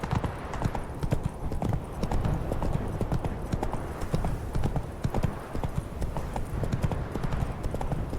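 Horse hooves clip-clop steadily at a brisk riding pace in The Witcher 3: Blood and Wine, a continuous close rhythm of hoofbeats with an occasional faint whinny.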